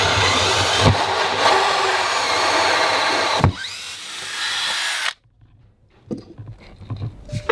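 A power drill runs loudly and steadily for several seconds cutting a through-hull hole in a boat hull, bogs briefly, then cuts out, leaving a few faint knocks and rustles.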